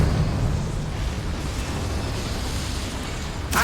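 A Confringo spell explosion in the video game Hogwarts Legacy produces a loud, sustained rumbling blast with a low, noisy roar that fills the whole clip before a brief crackle at the end.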